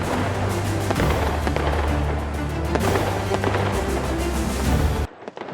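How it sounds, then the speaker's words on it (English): Fireworks from a crate set off during a palace wedding burst in a loud, dense chain of crackling explosions, continuous for about five seconds before cutting off abruptly into a quieter tail. "one of my bullets must have set off a crate of fireworks for the Assassin King's wedding, starting a chain reaction with other explosives"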